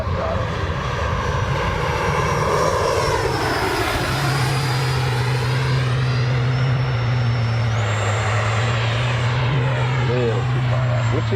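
An FMS Rafale model jet's electric ducted fan holds around half throttle before its maiden flight, a loud, close, steady whine with a deep drone that rises in pitch partway through, with someone talking over it.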